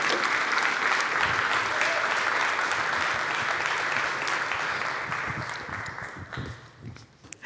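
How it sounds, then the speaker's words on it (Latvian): Audience applause at the close of a talk, sustained and dense clapping from a room of listeners that gradually thins and fades toward the end. "Mēs varam palūgt vēlreiz aplausus Jānim Rozenbergam."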